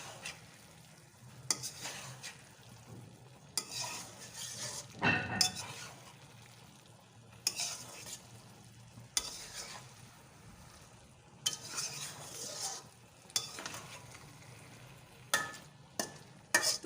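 Vegetarian cabbage curry being stirred in a pan with ghee, quiet soft sizzling broken by repeated bursts of spoon scraping and tossing at irregular intervals, close and fairly faint.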